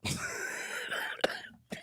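A single strained, wheezy cough with a rasping tail, followed by a short sharp catch of breath, close to the listener.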